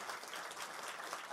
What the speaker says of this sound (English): So a big round of applause for our hosts would be great.